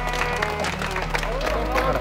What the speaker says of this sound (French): Ouais, on peut l'applaudir quand même, hein?